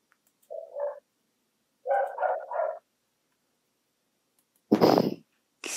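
A neighbour's dog barks in short bursts: a single yelp, then a quick run of three close barks, a pause, and one louder, harsher bark near the end, each standing alone against silence.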